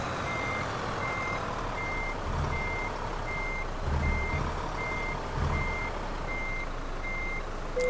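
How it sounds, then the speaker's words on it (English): Regular high-pitched reversing beeps from an Iveco 16-ton truck in a video game repeat about twice a second over a low engine rumble, with occasional heavier engine surges. "That backup noise just drives me nuts"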